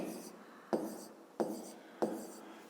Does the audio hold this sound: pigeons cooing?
no